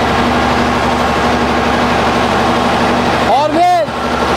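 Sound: tractor engine running

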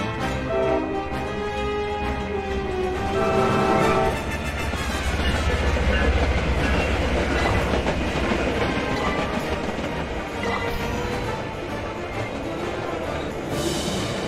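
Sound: train passing in VRChat video game

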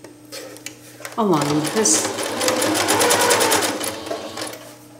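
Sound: sewing machine zigzag stitching purse lining edge

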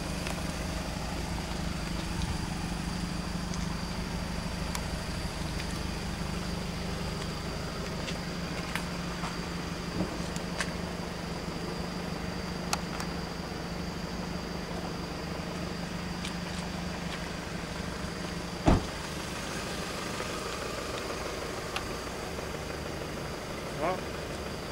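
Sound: car engine and exhaust

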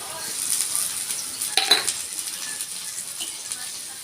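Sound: potatoes added to a sizzling pan for chira pulao

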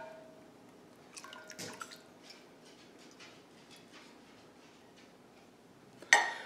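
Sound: simple syrup being poured for limoncello

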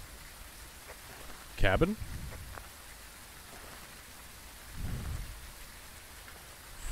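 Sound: loud rain with thunder in Phasmophobia video game

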